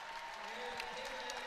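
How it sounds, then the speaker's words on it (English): A crowd applauding at a women's college basketball game between Santa Clara and Gonzaga, steady clapping heard from the arena stands at a moderate distance over the full stretch, with a faint commentary voice underneath. "Anna comes out and the crowd claps for her"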